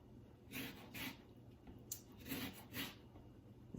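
An orange being zested on a microplane grater, giving soft, close rasping strokes in short bursts of rubbing, fairly quiet, with no voices.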